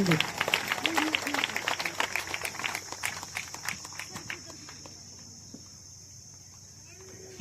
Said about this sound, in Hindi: तालियां बजाकर प्रभु का धन्यवाद करेंगे